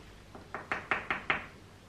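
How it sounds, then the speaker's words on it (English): Door knocked on with four or five sharp raps in quick, even succession, close by and fairly quiet, with nothing else heard. "I knocked on the door 4 times before he answered."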